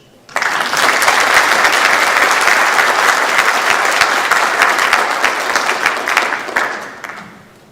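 A banquet audience breaks into sustained applause at a senior recognition banquet, a dense steady wash of many hands clapping that starts abruptly, holds loud and even, then tapers off at the end.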